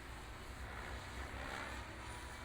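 A radio-controlled helicopter flying forward rolls and big loops, its steady whining rotor and engine drone continuous and fairly loud throughout, with no voices.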